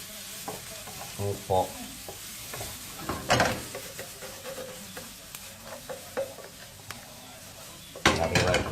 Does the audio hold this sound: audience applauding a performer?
no